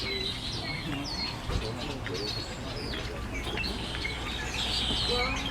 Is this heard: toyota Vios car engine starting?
no